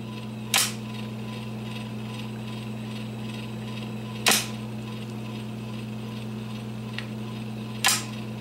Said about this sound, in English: The belt and the upper shaft will move at, the, at a constant speed.